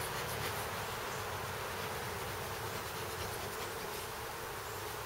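Bees swarm where a hive once stood, making a continuous, even buzzing hum that fills the whole stretch without pause.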